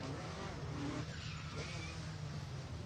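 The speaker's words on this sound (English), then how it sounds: "Bit of a lockup coming in." Toyota rally car on a special stage of the Harlech Stages rally, wheels locking under braking on the approach, giving a brief tyre skid over a steady engine roar, with a commentator talking over it.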